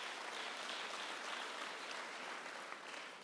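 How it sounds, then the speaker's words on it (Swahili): Sustained crowd applause for early childhood education teachers at a Nairobi event, a continuous, even wash of many hands clapping, heard from some distance without talk. "Tuwapongeze na tuwashukuru walimu wetu, tuwapige makofi."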